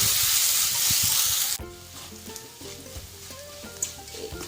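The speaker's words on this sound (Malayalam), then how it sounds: "ഇഞ്ചിയും നന്നായി ഒന്ന് മൂത്ത് വരട്ടെ അതുവരെ നമുക്കിതൊന്ന് ഇളക്കി കൊടുക്കാം" Finely chopped ginger fries in a pan for inji puli, starting with a loud hissing sizzle that drops abruptly to a softer crackle as it is stirred.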